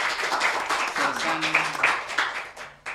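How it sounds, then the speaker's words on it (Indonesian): Indonesian audience clapping for a sergeant at a gathering on a free nutritious meals program, a short, fairly close round of applause with a voice speaking over it. "Tepuk tangan untuk Pak"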